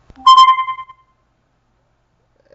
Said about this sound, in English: Sorry, notification.